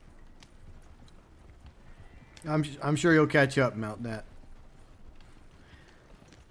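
Horse hoofbeats in the video game Red Dead Online form a steady, low clip-clop throughout, while a voice speaks over them briefly in the middle.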